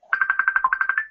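A phone ringtone chimes during an Italian live stream, a quick run of about ten bright, evenly spaced electronic pulses over roughly a second, close and clear with no talking over it.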